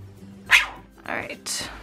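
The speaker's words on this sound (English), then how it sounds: "If you hear my dog barking" A dog barks a few times nearby, sharp separate woofs with short gaps between them.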